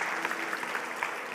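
Congregation at a church service breaking into steady, dense applause, many hands clapping together in a sustained wash with no voices on top.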